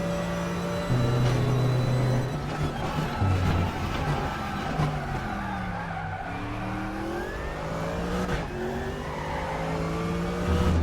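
A BMW M4 race car in the RaceRoom sim racing game revs and shifts through gears continuously, its engine note rising and falling steadily while tyres squeal through corners, with no talk over it.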